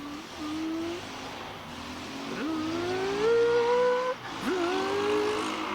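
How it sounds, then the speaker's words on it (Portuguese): A noisy motorcycle revs and accelerates on a street in Portugal, with rising engine whines across several gear changes as it passes at moderate distance. "ainda mais com uma moto barulhenta. que vai parar na esquina e vai fazer vrum vrum"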